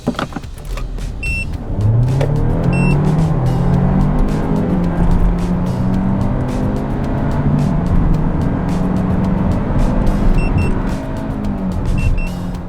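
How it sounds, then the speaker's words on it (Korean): Hyundai Avante hybrid CN7 accelerating hard in sport mode with S gear, the engine drone rising steadily in pitch through the run, loud and close from inside the car, no talk. "포츠 모드 그리고 기어는 S 모드로 달릴 거예요"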